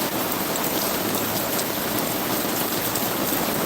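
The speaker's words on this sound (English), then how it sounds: "the rains came." Rain pours down on a garden in a dense, steady hiss, loud and close, as if heard from under an umbrella, with no voices.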